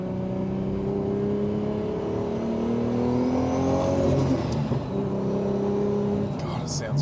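A Nissan Skyline R34 GT-R V-Spec engine revs and idles nearby, its tone rising and falling in a throaty hum, with some background noise.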